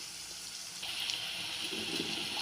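Water sprinkled from a hand over snake gourd stir-fry (poriyal) in a pan, a soft steady splashing and sizzling hiss lasting a couple of seconds at close range, rising slightly partway through.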